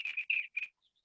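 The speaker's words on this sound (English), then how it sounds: "That is the warble of the eastern bluebird, of course." Eastern bluebird in a backyard warbles a short, clear phrase of three bright chirping notes followed by faint trailing tones, close and alone.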